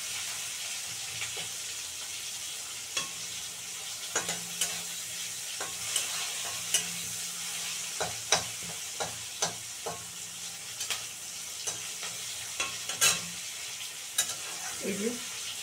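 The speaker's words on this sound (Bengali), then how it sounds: "পেঁয়াজটা একটু লাল লাল করে ভেজে নিয়ে" Chopped onion fries in a pan with a soft, steady sizzle, broken by a run of sharp scraping and knocking stirring strokes that come irregularly and grow busier toward the end.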